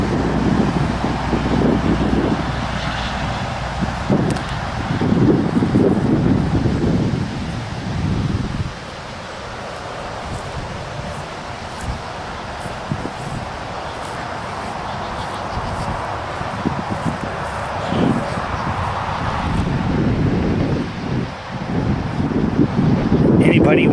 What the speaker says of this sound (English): I know there's a lot of wind and noise.